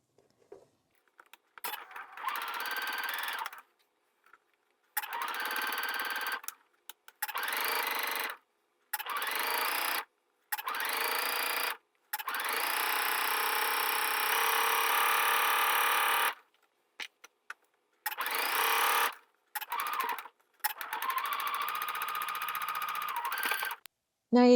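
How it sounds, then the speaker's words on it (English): A sewing machine stitches a curved seam on a wrap skort panel, running in short bursts and one longer steady run, separated by brief pauses; close and fairly quiet. "I find it easier to start my sewing from the curved edge."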